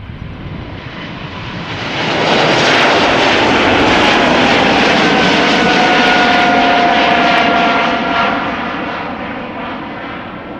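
An Embraer E2 195 jet, three years old, passing at Schiphol on departure for Dublin swells from a moderate rumble into a loud, close engine roar with a steady whine, then eases off as it recedes, with no talking.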